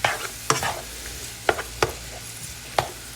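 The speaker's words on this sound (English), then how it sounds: "gotta keep an eye on these sauteing onions" Onions sauté in a pan for French onion soup, a soft steady sizzle punctuated by a handful of sharp spatula clanks and scrapes at irregular intervals, close by and without talk.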